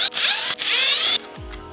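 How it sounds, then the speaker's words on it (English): A power tool whirs briefly to back out Torx screws from a BMW iDrive controller, two close high-pitched bursts with a short pause between, then a quick wind-down. "So just remove these 3 torque screws."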